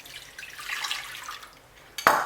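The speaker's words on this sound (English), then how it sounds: "So after putting your pap in the pot, add some water to it." Water is poured into a pot of maize meal for pap in a home kitchen, a soft continuous splashing wash ending in a sharp metallic clink of the pot.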